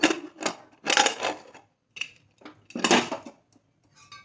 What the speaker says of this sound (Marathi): थोडंसं कुकर आपलं थंड झालंय झाकून काढूया